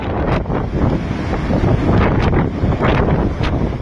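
Strong typhoon wind roaring and buffeting the microphone on the Aparri shore in Cagayan, with heavy surf crashing beneath it in a steady, loud wash and no voices.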